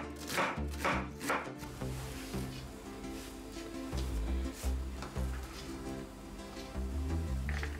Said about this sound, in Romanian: După ce am terminat de tocat varza albă, voi continua cu cea roșie.